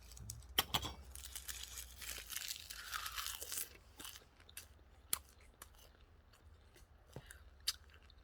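Close, crisp crunching and chewing of seasoned roasted laver with rice and wild chive sauce, steady bites and mouth sounds at low volume, with no talk.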